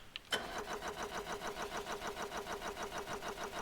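An engine starting in the Stormworks game: a short crank and catch, then a steady, pulsing mid-pitched idle with a regular rhythmic chug, fairly quiet and heard alone.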